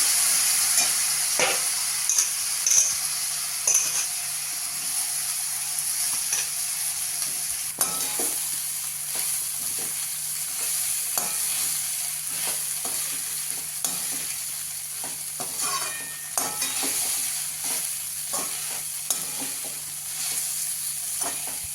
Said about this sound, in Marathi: आपण मिक्स केलेले ते पोहे यावर घालून परतायचे